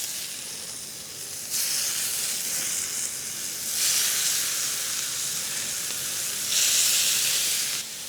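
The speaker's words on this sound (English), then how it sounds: "We're gonna put down our onions first." Onions go down on a hot grill for smash burgers, producing a loud, broad hiss that swells in waves as more are added, with no talking.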